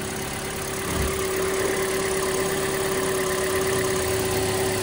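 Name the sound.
Toyota car engine idling after oil sludge repair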